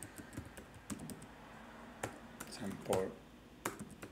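Keys clicking on a computer keyboard in short, irregular bursts of typing, quiet and close, with someone speaking softly over it.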